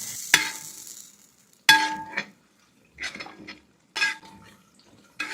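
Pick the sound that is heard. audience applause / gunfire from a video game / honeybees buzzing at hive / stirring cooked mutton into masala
stirring cooked mutton into masala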